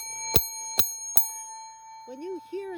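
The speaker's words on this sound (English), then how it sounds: "I brought a couple bells home. So listen, this bell," A handheld school bell rung three times in quick, evenly spaced clangs with a bright ringing tone, close and clear, followed by brief speech.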